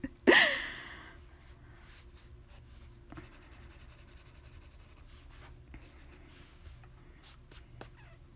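Pencil drawing on textured watercolor paper: faint scratchy strokes and soft scribbling come close up after an initial louder rustle, quiet and intermittent over a low room background.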